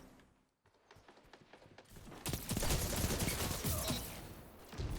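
Rapid gunfire in the video game Destiny 2 during a PvP match: a quiet stretch, then dense, continuous bursts of loud shots that build up and keep going almost without a break.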